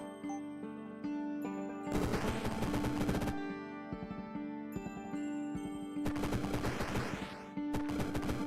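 Video game gunfire crackles in dense, rapid bursts of automatic shots, alternating with lighter single reports and tonal game music, fairly loud and close with no voices.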